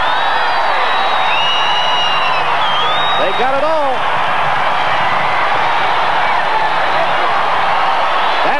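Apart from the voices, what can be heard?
football stadium crowd cheering after a touchdown in Bozeman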